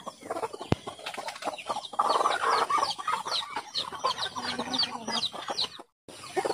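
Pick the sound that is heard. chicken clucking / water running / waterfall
chicken clucking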